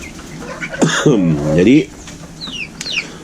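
Free-range village chickens kept near housing give a short, loud drawn-out cluck, with a few fainter calls after it. Someone speaks briefly nearby.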